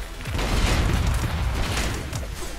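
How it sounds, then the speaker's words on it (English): Rumbling explosions in a robot combat video game, a continuous loud low boom with overlapping bursts rolling on for a couple of seconds. "That is a lot of explosions."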